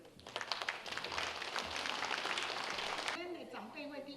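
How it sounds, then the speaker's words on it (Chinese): A hall audience at a Northern California Taiwanese seniors' association spring festival gathering applauds warmly to welcome the association's president, with dense clapping lasting about three seconds before a voice begins speaking. "所以咱即摆用热烈的掌声来欢迎会长。"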